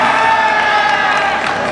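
A packed robotics competition crowd cheers loudly for the Red Alliance at the FIRST District Championship, a dense, continuous roar of shouting and whooping voices.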